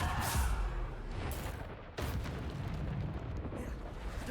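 Bombarda spell blasts in Hogwarts Legacy, a loud sustained rumbling boom with a sharp renewed burst midway, dense and continuous over the whole stretch.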